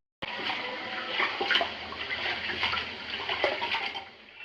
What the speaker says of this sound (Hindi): तो चावल को हमने अच्छे से धो लिया है 2-3 पानी से